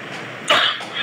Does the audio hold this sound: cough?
yes